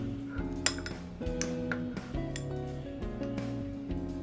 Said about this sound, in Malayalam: ഈ വലിയ കഷ്ണങ്ങളെ മൊത്തം ഒരു മിക്സിയുടെ ജാറിലേക്ക് ഇട്ട് കൊടുക്കാൻ പോവാണേ.